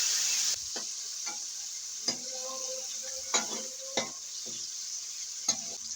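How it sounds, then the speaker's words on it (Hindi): Tomato paste frying with ginger and garlic in a pot for mixed vegetable pulao: a soft, steady sizzle with occasional spoon scrapes and taps against the pot, faint and close. "तो अब मैं इसमें डालूंगी एक बड़ा टमाटर था जिसका मैंने पेस्ट था बना लिया था।"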